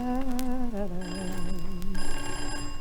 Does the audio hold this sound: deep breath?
no